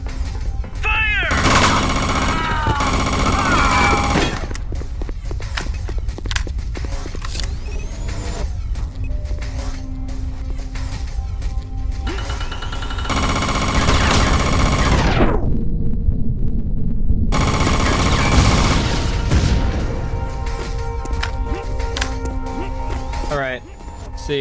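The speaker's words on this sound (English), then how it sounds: "Fire!" Gunfire in the video game Chaser, loud and continuous, with repeated bursts and mechanical clatter running throughout.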